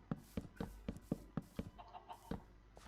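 Chickens in the video game Minecraft give a string of short, clipped clucks and taps in a fairly regular rhythm, quiet and close, with no voices over them.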